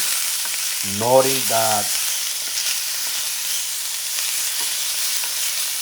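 Buffalo meat browns in a pan while being stirred, giving a constant close sizzling hiss; a voice speaks briefly over it.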